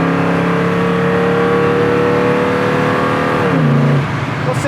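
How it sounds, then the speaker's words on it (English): A 1970 Mustang Fastback engine revs loud and close in a steady drone, then drops in pitch as the car shifts smoothly from first to second gear near the end. No one speaks. "it's just nice, smooth, nice, easy shift from first to second"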